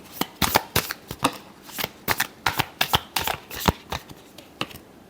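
A deck of tarot cards being shuffled by hand, a quick run of crisp riffling flutters and soft slaps in an irregular rhythm, close and clear with no talking.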